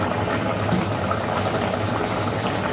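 Bitter gourd pieces boiling in a pot of water, a steady, dense bubbling that holds at a constant loudness throughout with no pauses, close up and alone.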